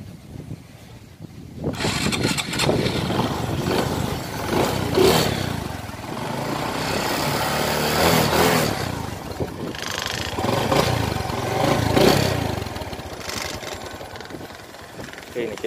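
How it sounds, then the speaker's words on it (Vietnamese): A 2008 Fi motorcycle engine is started and left running, settling into a quiet, even idle with occasional rises in revs and some wind noise on the microphone, close by. "Mình sẽ nổ máy cho anh em nghe luôn."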